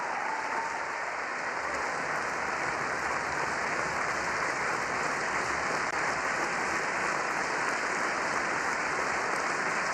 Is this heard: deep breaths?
no